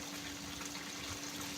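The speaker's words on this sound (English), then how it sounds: "while you listen to the waterfall" Waterfall rushing in a steady, continuous wash of falling water, fairly faint and unbroken, with no voices.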